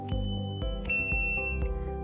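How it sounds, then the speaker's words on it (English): A DJI drone remote controller sounds its low battery warning: a few clear, tonal electronic beeps in a short repeating pattern, close and fairly loud, with no talking. "The controller will beep and you should change the batteries as soon as possible."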